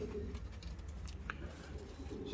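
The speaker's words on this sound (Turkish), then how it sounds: "Akbaş boğaralar" Akbaş boğara pigeons in a coop at night, with soft cooing and low murmuring calls under a steady rumbling background, plus faint shuffling and patter.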